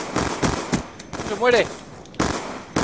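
Gunfire from the video game Black Ops 2 cracks out in sharp bursts and single shots spread across the moment, loud and close, while someone speaks Spanish between and over the shots.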